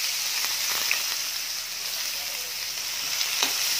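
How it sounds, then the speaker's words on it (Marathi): Finely chopped onion frying in oil with bloomed cumin, a continuous bright sizzle with occasional soft stirring scrapes in the pan, close and steady without talk. "कांदा आपल्याला छान सोनेरी रंग येईपर्यंत परतून घ्यायचा आहे"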